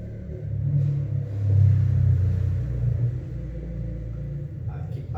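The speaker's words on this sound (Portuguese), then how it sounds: "Passa carro, passa moto." A car and a motorbike pass by on the street, a steady low engine rumble that swells to a peak and then eases off, continuing as a background drone.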